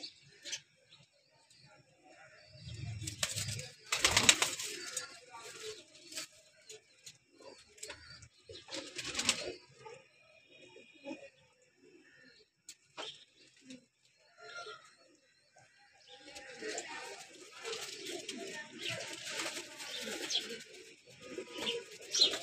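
Teddy breed pigeons in a breeder's loft in Lahore coo and call in soft, low bursts, with scattered chirps and rustling between quieter stretches.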